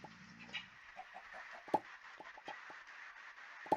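Chickens cluck in a modded Minecraft game, with soft scattered clucks and sharper clicks spread across a few seconds of quiet, low-level game sound.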